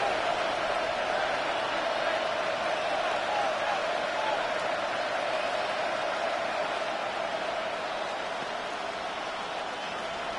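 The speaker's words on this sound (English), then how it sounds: "Some applause for the defense there." Stadium crowd at a football game applauding the defense after a stop forces fourth down, a steady broad roar of clapping and cheering that holds loud and unbroken throughout.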